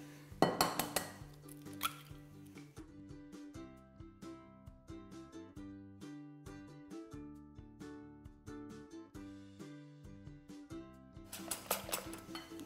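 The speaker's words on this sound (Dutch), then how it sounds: "We gaan eerst eventjes de eieren loskloppen." Eggs whisked by hand with a wire whisk in a bowl for apple pie waffle batter: a steady, quick rhythm of light metallic clinks and taps against the bowl, close and fairly quiet, with sharper clatter at the start and end.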